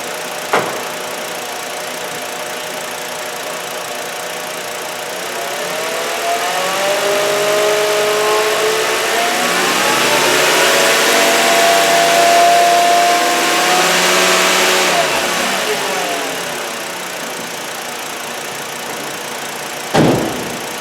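A 2008 Volkswagen Beetle's 2.5L engine idles steadily, then revs up and holds higher RPM for several seconds before settling back to idle, heard close and loud with no talking.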